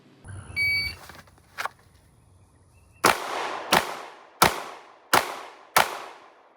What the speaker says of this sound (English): draw and fire 5 rounds in 5 seconds